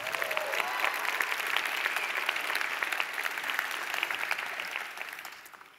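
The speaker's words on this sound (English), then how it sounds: "Join me in giving a round of applause to the Global Shapers." A large conference audience claps for the Global Shapers at a plenary session in China, sustained dense applause that fades toward the end.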